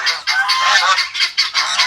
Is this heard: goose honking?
yes